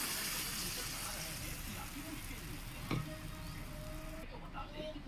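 Spice tempering of turmeric, masala and salt sizzling in hot oil for a spinach dal, a steady close crackling hiss with a faint clink partway through.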